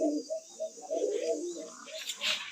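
White Bombay fancy pigeons on a pigeon farm in Sakhipur, Tangail, cooing in a run of soft, repeated low coos, with a brief brighter sound near the end.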